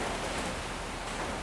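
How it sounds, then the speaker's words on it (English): Steady rain falls outside, a dense even hiss of drops with no breaks, fairly quiet and alone with no voices. "It is raining outside"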